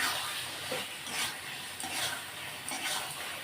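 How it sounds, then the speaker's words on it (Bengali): Pointed gourd (potol) being stirred and fried in a spiced masala for potol korma gives a steady close sizzle, with spatula scrapes and soft stirring bursts recurring through it. "এই যে মশলাটা কষানো হয়ে গেছে, পটলটা দিয়ে দেবো"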